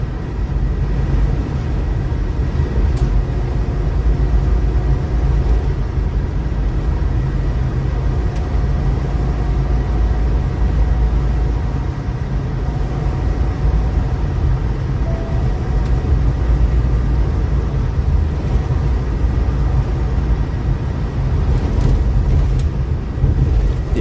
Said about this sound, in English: The truck is loud.